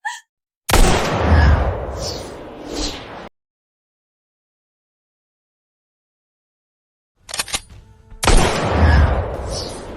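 Two loud gunshot blasts several seconds apart, each a sharp bang with a long booming tail, separated by silence and a few smaller knocks before the second.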